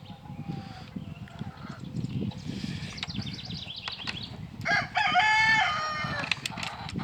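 Gamefowl roosters crow in a yard of gull-cross and roundhead-cross birds, with one loud drawn-out crow standing out over a steady bed of clucking and low farmyard noise.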